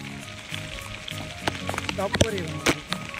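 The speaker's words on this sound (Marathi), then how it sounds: "पावसाचे थेंब पडतात" Monsoon raindrops patter on the trail to Jivdhan fort while people shelter under a tree, a soft steady hiss marked by a few sharper drip taps. Voices talk over it in the second half.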